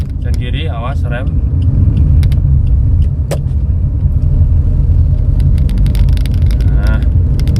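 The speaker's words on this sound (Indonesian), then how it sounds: "kolong bannya ini yang agak berisik ya, agak berisik" An older Suzuki Ertiga GL on worn, aged tyres gives off a loud, constant low rumble of underbody and tyre road noise while driving, with a voice talking over it throughout.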